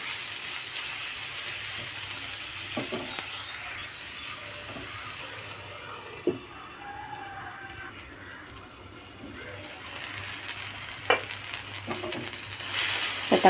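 Tomatoes cook under a lid in a pan for semiya biryani, giving a quiet, steady sizzle that holds at an even level, broken by a few faint clicks.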